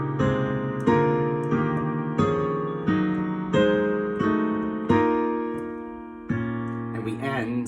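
Piano playing a slow series of sustained chords from a song, about eight struck chords each left to ring, with no voice over them.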